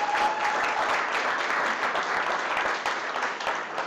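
Steady applause from an audience at a cooking competition, a dense, even patter of many hands clapping that holds for several seconds with no talk over it.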